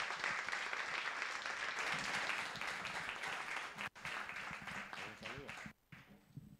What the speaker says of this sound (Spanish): Os pido ahora sí un aplauso para ellos.